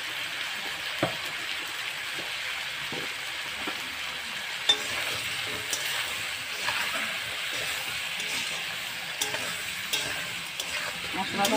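Spice paste with turmeric frying in a pan for a fish curry with potato, eggplant and beans, a continuous soft sizzle broken by occasional spatula scrapes and taps, close and moderate.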